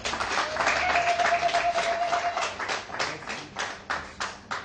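A small group at a wedding claps for a few seconds, a brief scattered round of applause that thins out into separate, isolated claps.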